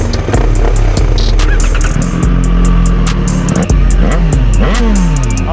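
A street bike motorcycle accelerates hard on a test ride on a real road with traction control off, its loud close engine revving up through repeated rising pulls, dropping briefly between gear changes.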